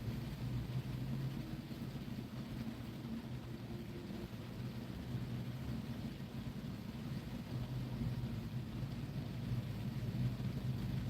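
Steady rain falls outside during a livestream on the road, a continuous broadband hiss with low rumbling underneath, evenly loud throughout and with no voices.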